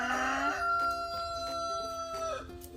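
A rooster crows once nearby, a long drawn-out call with a strained, wavering end, loud and clear against quiet surroundings.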